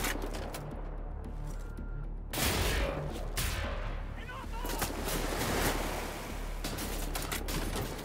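Gunfire in Wolfenstein: The New Order, a barrage of booming shots and blasts among rumbling combat noise, with a voice talking over it.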